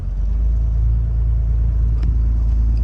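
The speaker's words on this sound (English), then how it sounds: "if you're sitting here idling in park and you activate this cruise control and set it, it'll speed your idle up" A 2500 RAM truck engine running at a factory-raised high idle while parked, a steady, loud, close low rumble with an even pulsing throb and no change in pitch.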